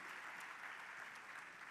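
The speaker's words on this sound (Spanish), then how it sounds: "Otro fuerte aplauso, por favor, para Carlos Bravo." A forum audience gives Carlos Bravo a brief round of applause: faint, even clapping from a distant crowd, heard alone without voices.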